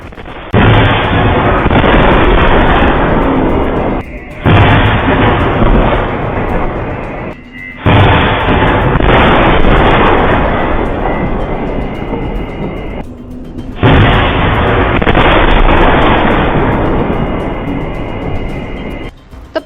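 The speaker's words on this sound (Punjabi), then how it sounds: "ਧਮਾਕੇ ਦੀ ਆਵਾਜ਼ ਹੈ ਜਿਹੜੀ ਉਹ ਸੁਣਾਈ ਦਿੱਤੀ ਹੈ" A missile explosion in a Gurdaspur village produces several loud, sustained roaring blasts separated by brief gaps, heavy and close, filling the whole recording.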